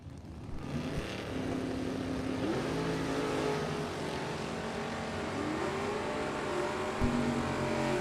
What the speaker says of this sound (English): And a close race off the starting line.